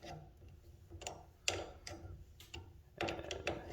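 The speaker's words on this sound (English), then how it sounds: "grab this bolt, using a 1/2 inch wrench" A 1/2 inch wrench turns the chain bolt on a garage door opener, giving close, dry ratcheting clicks in short irregular bursts, with faint metallic tapping and handling noise between them.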